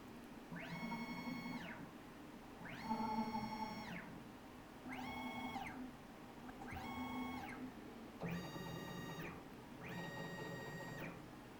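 A 3-axis CNC mini mill, an X3-size mill retrofitted with a CNC kit, jogs its axes from a handheld pendant, giving six separate bursts of tonal stepper-motor whine, each lasting about a second with short pauses between them, steady and close.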